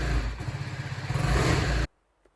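A BMW G310R motorcycle engine runs with a close, throbbing, rapid chug that rises slightly, then cuts out abruptly into near silence, followed by one faint small knock.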